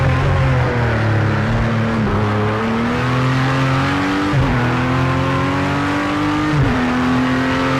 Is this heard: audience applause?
no